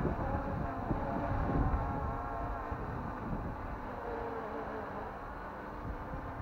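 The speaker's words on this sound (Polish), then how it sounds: "podmuchy są niesamowite" Strong wind gusts above 10 m/s buffet a microphone outdoors where a small camera drone flies, a dense continuous roar heaviest early on and easing slightly, with no talk.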